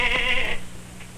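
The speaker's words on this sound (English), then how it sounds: "The billy goat sees it." A billy goat gives one short, nasal bleat, close and moderately loud, fading into quiet background.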